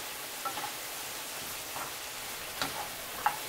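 Onion with salt gently sizzling in a frying pan, a soft steady hiss with occasional faint pops and ticks, low and continuous throughout.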